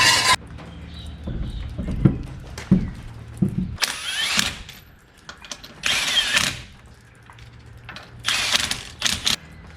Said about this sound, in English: I only just nipped them all up with the rattle gun